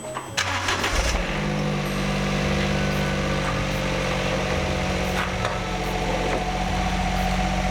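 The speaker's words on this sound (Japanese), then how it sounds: "一回エンジンかけましょうか。" A 4WD Suzuki Alto Turbo RS HA36S with an aftermarket muffler cranks and catches, then settles into a steady burbling idle, loud and close, with a few light knocks and clicks over the running engine.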